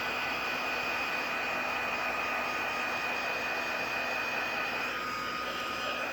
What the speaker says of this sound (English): It just makes such noise when I'm trying to demonstrate.